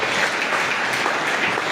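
An audience in a packed hall applauds at a panel event, a dense, continuous wash of clapping heard up close and without a break.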